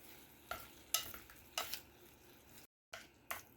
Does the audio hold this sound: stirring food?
yes